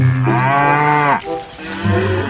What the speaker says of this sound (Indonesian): di sini masih ada nih suara sapi